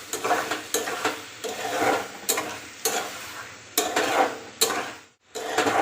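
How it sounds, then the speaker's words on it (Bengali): Tamarind stirred into sambar in a pan, a spatula scraping and swishing through the thick liquid in repeated strokes over a soft simmering sizzle. "তেঁতুল দিয়ে মিক্স করলাম।"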